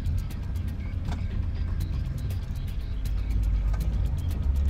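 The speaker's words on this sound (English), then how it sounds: "your engine roars to life" A car engine runs in a steady, low, loud rumble that builds slightly toward the end, heard close and alone with no voices.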